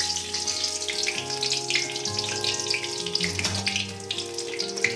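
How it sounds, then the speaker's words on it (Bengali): Dried red chillies sizzle in hot oil in a wok, a steady close crackle and hiss with a faint background hum throughout. "কড়াইয়ে তেল গরম করতে দিয়েছি। প্রথমে আমি শুকনো লঙ্কা দিচ্ছি"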